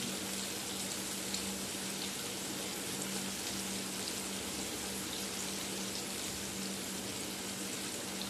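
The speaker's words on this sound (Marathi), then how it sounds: "आता असे तळून घेते मी सगळे" River fish frying in hot oil, a continuous close sizzle and bubbling crackle that stays even throughout with a faint steady hum underneath.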